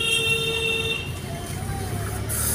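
A car horn sounds during a driving lesson, a steady held tone that cuts off after about a second, over traffic noise while a voice speaks nearby.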